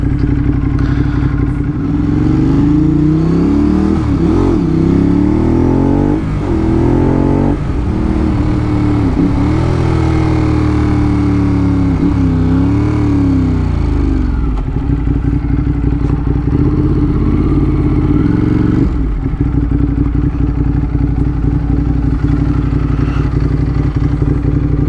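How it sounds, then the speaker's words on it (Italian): Motorcycle engine running loud and close while riding out to fill up on fuel, with repeated revs rising and falling through the first twenty seconds over a steady rumble and wind buffeting. "ho appena preso la moto"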